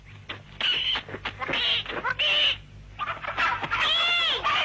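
Chickens cluck and squawk in quick, overlapping bursts close by, a busy flurry of agitated calls.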